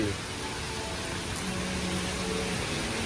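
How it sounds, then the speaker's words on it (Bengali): Heavy rain pours down during a business trip in China, a constant, even hiss of downpour with no pauses and no voices. "এখানে বৃষ্টির অবস্থা দেখেন এত বৃষ্টি হইতেছে"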